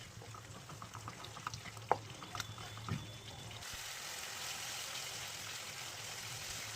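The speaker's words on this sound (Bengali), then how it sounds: "দইটা দিয়ে মশলাটাকে আরও কিছুক্ষণ কষিয়ে নেব।" Spice paste with sour yogurt frying in a pan, a soft, faint sizzle with a few light stirring knocks, then a steadier hiss as it settles; a brief spoken word at the start.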